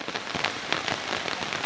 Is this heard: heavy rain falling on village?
yes